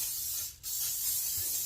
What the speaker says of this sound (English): I'm just using some cooking spray